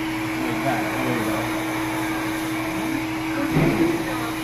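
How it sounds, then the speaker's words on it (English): A handheld blow dryer drones steadily while hair is blow-dried, a constant whirring hum that continues through the clip, with a brief louder rise near the end. "Can you see where my blow dryer is?"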